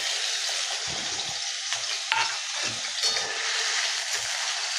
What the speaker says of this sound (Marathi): तर आता आपण त्याच्यात बटाटा फ्राय करूया